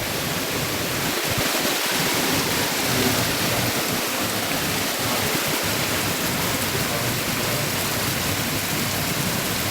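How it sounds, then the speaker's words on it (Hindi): Heavy rain and wind in a hailstorm over ripe crops on farmland in Shahabad, Kurukshetra, Haryana, a loud, steady, dense roar of pouring water that carries on without a break, with no distinct voices. "ये देख कितना ओला पड़ा भाई, ये देखो ओला देखो, ओए हो तूफान, ओए हो बारिश।"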